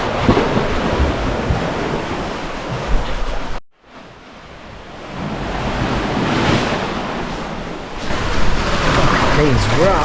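Ocean waves crash and wash up on a beach at Uluwatu in Bali. The surf roars loud and close, dips briefly, then builds again, with heavy wind buffeting the microphone.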